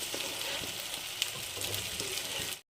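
Mustard seeds, cumin, curry leaves, bay leaves and muthiya sizzling in hot oil for a tempering on gourd dhokla, a steady close frying hiss that cuts off abruptly at the end.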